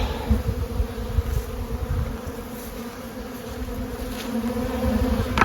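Bees humming steadily around hives during early spring feeding in March, a dense continuous buzz close by with no talk.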